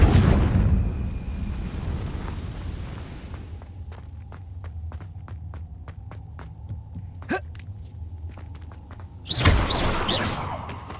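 A Confringo blasting curse explodes in Hogwarts Legacy, a sudden loud, broad burst near the end that follows a quieter stretch of low hum and scattered sharp ticks.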